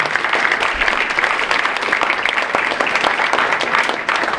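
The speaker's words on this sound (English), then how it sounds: "So a round of applause, please," An audience at a school spring arts night applauds in a dense, even roar of clapping that carries steadily from start to finish.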